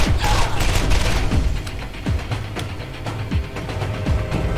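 An electric gun fires in the Borderlands shooter game, loud repeated shots about every second over a busy, rumbling backdrop of combat noise.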